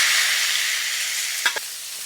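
Salmon pieces drop into a frying pan of half-cooked vegetables for a pan-fried salmon kokoreç, giving a steady close sizzle throughout, broken by two brief knocks from the pan near the end.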